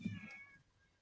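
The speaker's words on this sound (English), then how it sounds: "Oh, my cat is yelling. Can you hear that?" A house cat yowls loudly in one short, strained meow with a harmonic wail that tails off over about half a second, close to the microphone in a quiet room.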